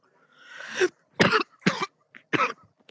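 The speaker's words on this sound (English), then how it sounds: "I'm coughing." A woman coughs several times in short, loud bursts, with a brief throat clearing between them, close to the microphone and with no talk over them.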